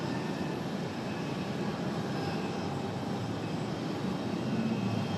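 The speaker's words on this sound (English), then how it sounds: "I'm going to follow Endeavour all the way out." An Endeavor Air jet departs Raleigh-Durham airport with a continuous, broad engine roar at steady, fairly distant loudness and no voices over it.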